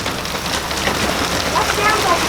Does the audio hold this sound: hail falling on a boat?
yes